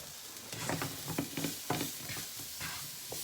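Browned apples with brown sugar and cinnamon are stirred in a hot pan, a soft sizzle under several scraping strokes, close and quiet.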